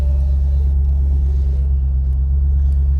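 An old convertible's engine runs with a loud, steady low rumble, heard close and uninterrupted throughout with no other sounds on top.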